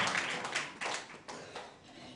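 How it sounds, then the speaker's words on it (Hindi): About five sharp hand claps at a Hindi church service, quiet and evenly spaced, with no talking. "ताली बजा कर"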